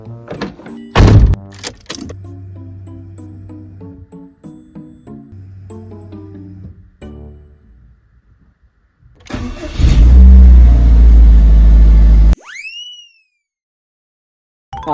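Subaru GDB Impreza starting up and running, with door thunks, chimes and mechanical clicks, then a loud engine roar that cuts off abruptly, heard close inside the car with no talking.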